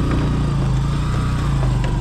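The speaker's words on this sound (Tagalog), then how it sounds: "Pero malakas yung motor ni Mac." A motorcycle engine drones steadily and loudly nearby, a continuous low rumble with a faint hiss over it.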